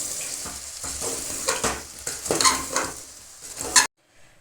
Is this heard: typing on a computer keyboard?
no